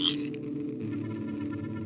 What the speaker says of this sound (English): A series of synthesized tones played.